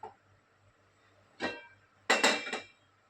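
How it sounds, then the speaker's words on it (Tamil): A few metallic clanks and scrapes as a pot is set down on a stovetop, spaced out with quiet gaps in between. "இப்போ நான் ஸ்டவ் பற்ற வச்சு ஒரு பாத்திரம் ஏற்றிக்கிறேன்."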